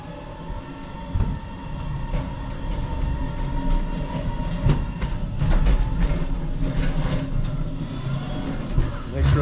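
A MechMaxx pallet truck rolls a load of roughly 1,500 pounds across the floor, a steady rumbling roll with clunks and rattles, loud and close, voices talking alongside.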